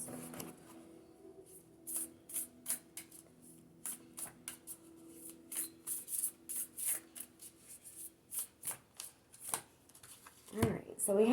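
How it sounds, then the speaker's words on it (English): Whispers of Love oracle cards being shuffled by hand, a run of quick riffling bursts in an irregular rhythm, close and fairly soft, ending with a clunk. "I'm going to pull one card from the Whispers of Love"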